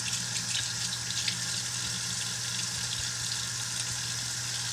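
Cold water runs steadily from a tap over a dental retainer being rinsed, a continuous close hissing gush at even loudness throughout with no speech.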